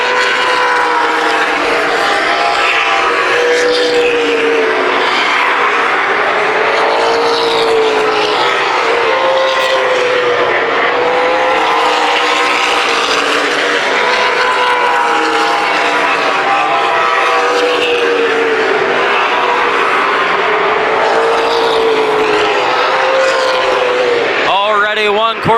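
Race cars lapping the oval at Columbus Motor Speedway during a 2007 main event, engines droning continuously with rising and falling pitch as cars pass, under steady commentary from an announcer.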